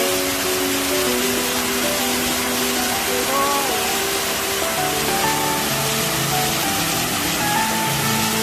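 The Shiraito waterfall roars as a loud, steady, close wash of rushing water, with faint background tones and voices in the mix.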